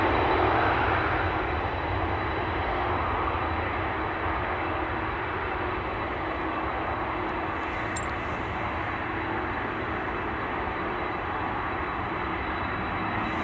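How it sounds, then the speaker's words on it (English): Airplanes, among them a 747, depart Schiphol Airport with a steady, broad jet engine roar that stays strong and even across the whole stretch, heard from some distance with no talking. "departures are once again commencing here, particularly A747 will get a bit loud."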